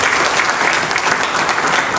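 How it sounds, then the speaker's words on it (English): Loud, thunderous applause from a crowd of church pastoral council members and service heads at a diocesan pastoral week in Kumba, a dense unbroken wash of clapping filling the room. "greeted with a thunderous applause"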